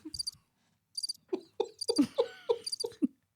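Repeated cricket chirps used as a comedic sound effect, in short bright bursts with pauses between them, set over soft low tonal sounds; fairly quiet and alone, with no talking.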